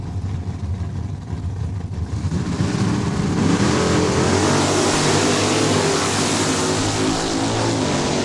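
Drag race cars launch off the starting line at Saskatchewan International Raceway, a Mopar Belvedere among them; engines idle low, then erupt into a loud, rising roar that stays near and sustained.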